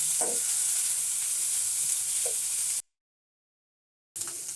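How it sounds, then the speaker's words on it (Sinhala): Rice sizzling and frying in a pan as egg is stirred and mixed through it, steady hissing with a couple of brief scraping stir sounds, then a short silence before the sizzle resumes. "බිත්තරෙත් එකතු කරලා මේ ආකාරයට හොඳට මික්ස් කරගන්න ඕනේ."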